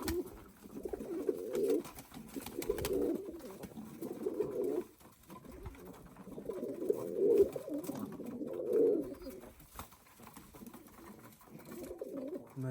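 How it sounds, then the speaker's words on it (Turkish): Pigeons coo repeatedly in soft, rhythmic bursts, close by inside a coop, with short pauses between calls. "kümesimizde de arkadaşlar sadece 4 tane kuş kaldı"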